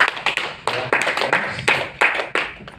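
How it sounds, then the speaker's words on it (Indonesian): A small audience claps hands in a short, loose burst of sharp, irregular claps at close range, with no voices over it. "Tepuk tangan dulu dong."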